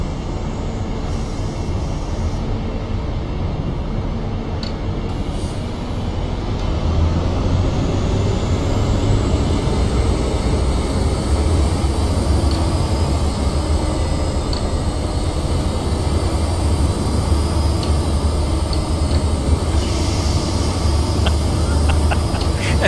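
A Class 43 HST train runs along the Great Western Mainline in Train Simulator, a continuous rumbling drone with steady wind and rail noise that grows slightly louder partway through.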